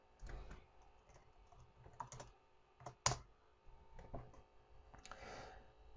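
Computer keyboard typing a search into Google Scholar: faint, scattered key clicks in short uneven bursts with one louder tap, quiet and close.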